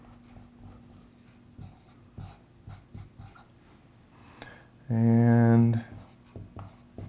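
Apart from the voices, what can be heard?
writing out a calculation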